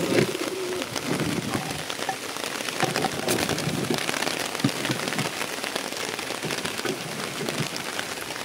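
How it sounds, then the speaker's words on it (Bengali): Pigeons coo softly on a rooftop garden amid a constant hiss of rain, with occasional fluttering and scattered taps nearby. "আর এই কবুতর, এই খোপেতে একটা বাচ্চা আছে"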